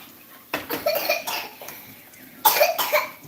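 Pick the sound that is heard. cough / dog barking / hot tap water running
cough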